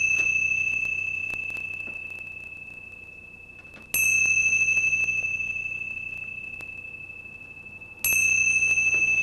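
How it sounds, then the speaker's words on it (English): Three strikes of a resonant bell, each about four seconds apart, ringing with a long pure tone that slowly fades before the next, close and clear in a quiet room. "going to ring my bells 3 times to begin our time together"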